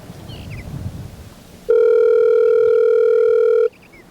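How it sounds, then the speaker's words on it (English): A telephone dial tone sounds as a steady, loud, unbroken hum for about two seconds while a call is being placed, then cuts off into quiet room noise. "Oh, yeah, we got to call Dan Bennett, too"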